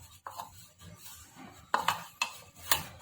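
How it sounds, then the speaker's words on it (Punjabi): Milk powder being stirred into bread crumbs for gulab jamun, giving a few soft scraping and clinking strokes of a spoon against a bowl, fairly close and spaced out, with no talk. "ਮਿਲਕ ਪਾਊਡਰ ਨੂੰ ਵੀ ਆਪਾਂ ਮਿਕਸ ਕਰ ਲਵਾਂਗੇ ਬ੍ਰੈਡ 'ਚ"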